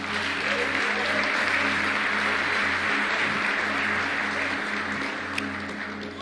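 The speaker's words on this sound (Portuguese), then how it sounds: "Uma salva de palmas pro Thiago Rocha." Audience applause for a guest named at a motivational talk on prosperity, a steady dense wash of many hands clapping for about six seconds, loud and even, fading slightly at the end with a faint hum beneath.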